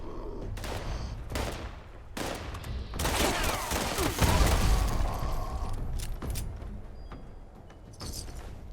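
Gunfire against enemies in the Fallout 76 video game, with bursts of rapid automatic shots, single heavy cracks and a booming blast in the middle, loud and dense over a rumbling game background, no voices.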